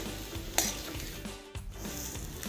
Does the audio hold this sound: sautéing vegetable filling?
yes